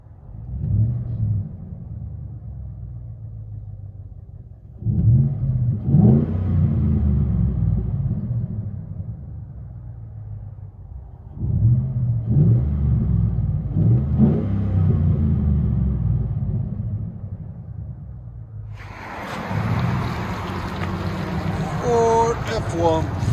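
A 2013 Ford F-150 FX4 pickup with a 5.0L Coyote V8 and a Magnaflow performance muffler, revved three times with deep rumbling surges that drop back to a low idle, followed near the end by brighter noise and a voice.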